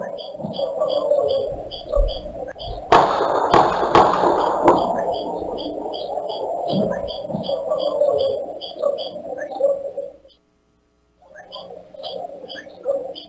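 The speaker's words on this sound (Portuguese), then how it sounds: "Olha, continuam os disparos. Estamos ouvindo o momento dos disparos" Gunshots at a residence in Parque Vitória, Teresina: a quick burst of several sharp cracks in the middle, set against continuous outdoor bird chirping and cooing that briefly drops away near the end.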